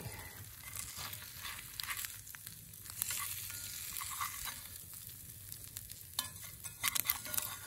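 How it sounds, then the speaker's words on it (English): Eggs fry on a swinging bushcraft grill outdoors, giving off a faint, continuous sizzle with occasional soft scraping and spatula clicks, heard from close but at low volume. "I'm going to say my eggs pretty much done about where I want them to be."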